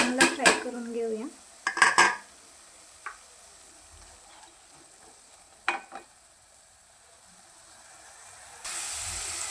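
Tomatoes, coriander and onion fry in a pan while a metal spoon clanks and scrapes against it in short bursts, over a faint background sizzle.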